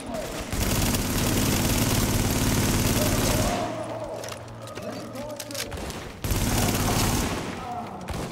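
Rapid gunfire from an online shooter game, sustained bursts of automatic fire with booming shots, loud and continuous for several seconds, under frequent talk from a player.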